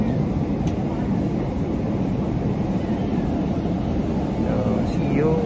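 Steady, broad roar of a Qatar Airways airliner descending, heard from inside the cabin, a constant dense engine and airflow rumble with no breaks.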